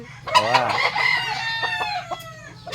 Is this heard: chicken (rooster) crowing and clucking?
yes